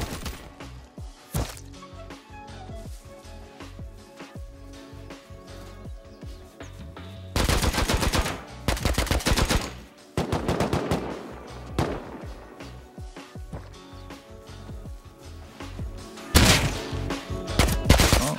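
Suppressed AK rifle fire in the survival game Rust, heard as repeated bursts and single shots across the clip, with dense loud volleys in the middle and near the end.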